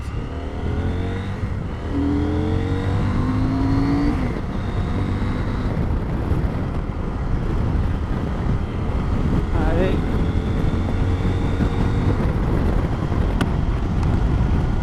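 A CF Moto 800MT Sport 2022 motorcycle cruises on an expressway in sixth gear, its engine a steady drone with shifting pitch under heavy wind roar, continuous and close, with a rider's voice over it.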